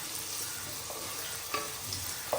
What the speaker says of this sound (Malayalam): ഇതിന് നല്ല റെഡ് കളർ ഗോൾഡൻ ബ്രൗൺ ആയിട്ട് വറുത്തെടുക്കണം